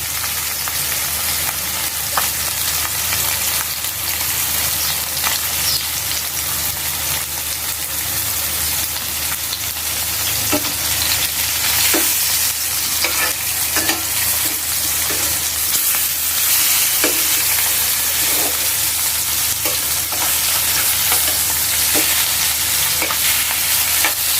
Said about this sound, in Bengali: চুলার আস মিডিয়ামে রেখে হালকা করে মাছগুলি ভাজবো কড়া ভাজবো না